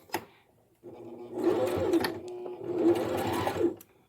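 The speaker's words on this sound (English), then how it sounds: "I'm going to back stitch here." A Brother Strong and Tough sewing machine runs in two steady bursts of back stitching, a close, even mechanical whir with a brief pause between passes and a small click at the start.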